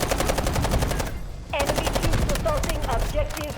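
Loud, fast automatic weapon fire from the video game Delta Force: Hawk Ops rattles in two long bursts separated by a brief gap, close and dominant, with faint game sounds underneath.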